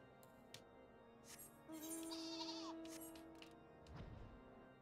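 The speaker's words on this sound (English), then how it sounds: "Pretty sure sheep are out here." Sheep bleat in a video game, a few drawn-out bleats at moderate distance over a steady background ambience with no speech.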